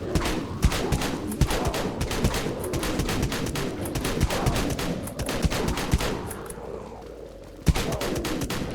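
Dual Bronco shotguns fire in the Dead Frontier video game, with dense, rapid blasts through most of the stretch, a brief lull near the end, then one more sharp shot.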